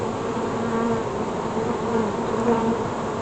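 A dense, steady buzz of many honeybees swarming over an open beehive with capped brood and drone cells, loud and close with no break, and no voices.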